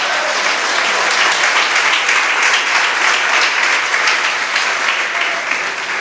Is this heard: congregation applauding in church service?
yes